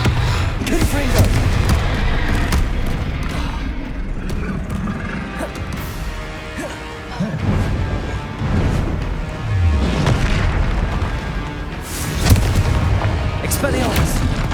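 Confringo spell explosions in the Hogwarts Legacy video game, with repeated booming blasts and crashes amid combat effects, loud and dense, while a voice calls out spell names over the din.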